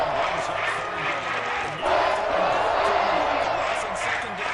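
Stadium crowd roaring in Madden 23 during Lions vs Panthers, a steady wall of cheering that swells noticeably louder partway through and stays high, with a voice talking over it.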